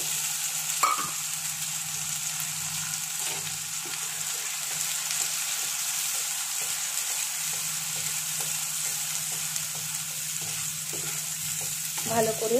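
Onion paste sizzling and frying steadily in a hot pan on medium heat for a Bengali prawn malai curry, a continuous crackling hiss with occasional stirring scrapes and a brief spoken remark.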